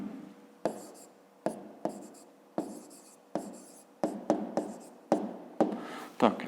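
Pen scratching out an explanation on paper while solving a fifth-grade math exercise, a steady run of short, close writing strokes broken by brief pauses, with no talk.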